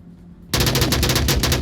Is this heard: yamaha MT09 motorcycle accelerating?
no